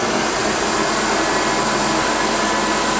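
A milling machine cuts into a Game Boy case with a carbide end mill, giving a loud, constant broadband whirring and grinding roar that holds steady throughout, close by with no voices.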